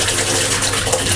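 Tap water runs steadily at a sink in a Swiss public toilet, a close, continuous hissing splash with no voices.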